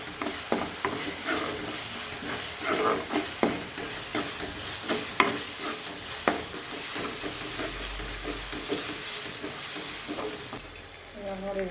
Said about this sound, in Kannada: ಸ್ವಲ್ಪ ಎಣ್ಣೆಯಲ್ಲಿ ಖಾರ ಬಿಡಬೇಕು.